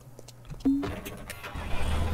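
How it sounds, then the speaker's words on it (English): A tractor in the Farmer's Dynasty farming game starts up with a click and a cranking chirp, then settles into a low engine rumble that rises toward the end. "Let's go jump in our tractor and trailer."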